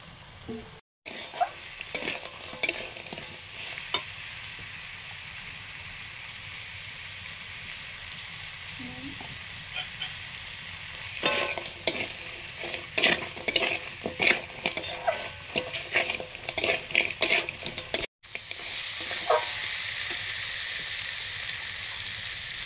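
Crabs sizzle in a pan of cooked-down spice paste and are stirred, with spoon scrapes that get busier later on. There is a steady frying hiss underneath.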